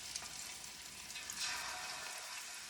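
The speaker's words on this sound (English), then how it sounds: "So I'm going to now sear this fish" Fish sears in hot oil with garlic and a piece of pepper, giving a soft, steady, close sizzle with faint crackles and no talking.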